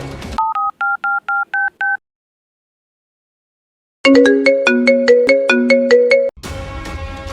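Telephone sounds with no talk: a short run of six keypad dialing tones, a silent pause, then a loud, rhythmic electronic ringtone, followed by a burst of music.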